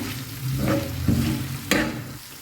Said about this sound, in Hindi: तो ये देखिए हरी मिर्च डालने के बाद इसे मैंने 5 मिनट और भूना है